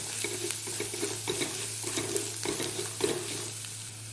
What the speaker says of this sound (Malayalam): മസാലയും റാ സ്മെല്ല് പോണ വരയ്ക്കും ഒന്ന് നമ്മൾ വഴറ്റണം.